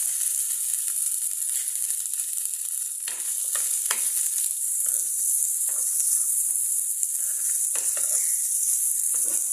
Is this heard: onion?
yes